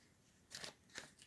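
Two quick papery riffles of tarot cards being shuffled, close and soft, in an otherwise quiet room.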